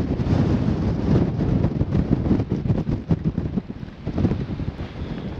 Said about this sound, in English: even as we battle the wind